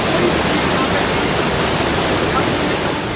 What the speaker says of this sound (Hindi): पानी की रफ्तार और उसका शोर डरा रहा है।